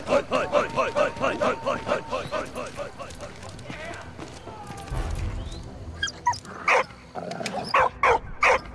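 A dog barks in the Valiant Hearts: The Great War video game, a run of quick, evenly spaced barks up close, then rougher yelps and whimpers. Game sounds and a man's speech come in over the later part.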